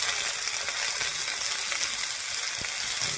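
Vegetables with turmeric, salt and green chilli stirred in a hot pan, giving a continuous close sizzle with a couple of light clinks of the spoon.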